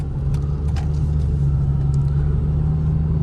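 A 2011 Jeep Patriot Latitude pulling away on the road, its engine a steady low rumble with road noise filling the cabin, loud and continuous, no talking.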